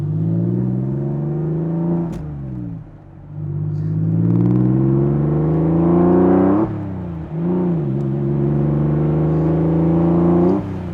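A 2000 Porsche 911 Carrera Cabriolet (996) with a 6-speed manual pulls hard from inside the cabin, its engine note climbing through the revs in three strong runs broken by quick gear shifts, loud and close with no talking.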